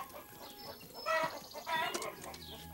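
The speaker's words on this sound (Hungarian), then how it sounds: "Kájúnak nem tetszett, hogy a csirkék üldözték." Cartoon chickens cluck and squawk in quick, bright bursts, fairly close, with a couple of louder peaks across the short stretch.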